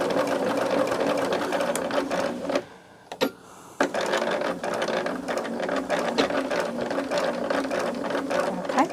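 Sewing machine running steadily while stitching a seam on a small fabric charm bag, a close, continuous mechanical whir with a brief pause near the middle before it resumes.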